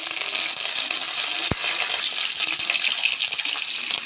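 Garlic and curry leaves sizzle in hot ghee in a pan while a chicken ghee roast cooks, giving a steady, dense hiss with one soft thump partway through and no voices.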